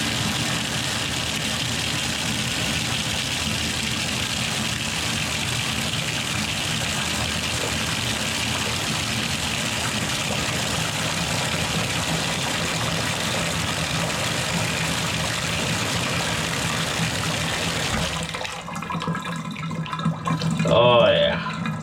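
A bathtub faucet pours strongly into a tub with a freshly unclogged drain, a loud, even rushing roar that goes on for a long stretch, then cuts off and leaves quieter handling and a voice.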